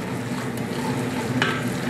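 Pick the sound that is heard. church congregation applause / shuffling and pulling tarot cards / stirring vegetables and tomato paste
stirring vegetables and tomato paste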